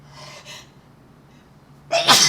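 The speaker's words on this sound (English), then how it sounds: "Now I could edit out that sneeze" A single loud sneeze bursts out near the end, sharp and close, after a stretch of quiet room tone with a faint earlier breath.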